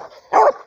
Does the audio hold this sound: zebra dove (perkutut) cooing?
no